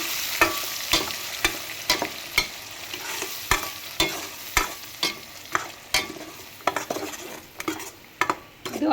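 Ground masala for a coconut-mustard chitranna frying in a pan, a continuous sizzle punctuated by regular, rhythmic scrapes and clinks of a spoon stirring against the metal, close and fairly loud.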